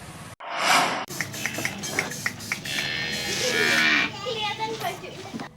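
Cattle on a farm in Lampung, Indonesia, low loudly nearby in long, drawn-out moos, with some background noise and no clear talking.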